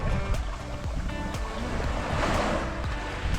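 Waves washing onto the shore at Punta del Faro beach in Messina, Sicily, a steady close rush of surf with small splashes and gusts of wind throughout.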